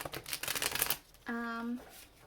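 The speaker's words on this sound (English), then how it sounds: "get some of the Welcome to Night Vale tarot cards out to clarify" Tarot cards from a Welcome to Night Vale deck are riffle-shuffled in a quick papery flutter for about a second, near and alone, followed by a short held hum.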